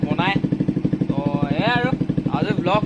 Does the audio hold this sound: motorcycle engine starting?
yes